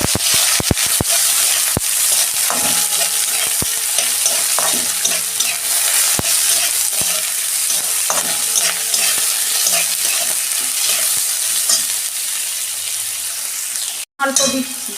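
Onions added to a pan and frying, a loud, continuous close sizzle with scraping stirs and occasional clicks throughout, cut by a short sharp break near the end.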